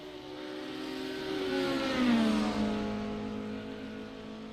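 A Lamborghini race car engine in a racing simulator revs and rises in pitch, swelling to a loud peak near the middle as it passes close, then easing slightly while holding a steady high whine.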